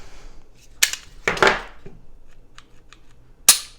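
A CZ P-10S pistol gives several crisp, close mechanical clicks from its trigger pull and reset, sharp isolated snaps separated by quiet gaps, with a couple of faint lighter ticks between them.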